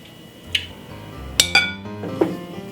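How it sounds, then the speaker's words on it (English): A spoon stirring a pot of Jamaican brown stew pork gives a few sharp metallic clinks against the pot, spaced irregularly, close and fairly clear over a quiet kitchen background. "I wanna give it a nice, lovely stir"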